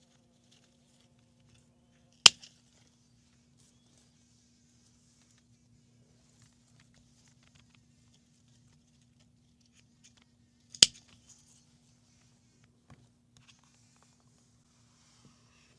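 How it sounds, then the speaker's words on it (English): Scissors cut sage plants in a garden, producing two sharp, distinct snips several seconds apart, with faint insect buzzing and quiet outdoor ambience in between. "I'm going to go ahead and cut some off so that it could keep growing."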